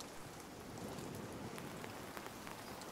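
Steady rain in the video game Nightingale, a dense, even hiss of falling drops with faint scattered patters, low in level and unbroken for the whole stretch, no voices.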